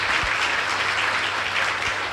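A seated audience claps steadily to welcome an honoured guest at a spiritual class gathering, a dense continuous wash of many hands, close and loud throughout with no voices.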